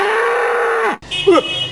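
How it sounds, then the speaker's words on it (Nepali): An old ox on a farm gives one long, loud, low bellow, then a shorter call right after, close and with no talk over it. "फेरि यो बुढो गोरु कराएर"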